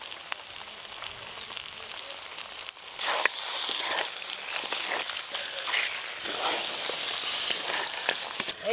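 Mutton curry with yogurt and spices sizzles in a pan while being stirred, a continuous frying hiss with scraping stir strokes that grows louder after a few seconds.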